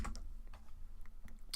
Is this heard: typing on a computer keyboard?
yes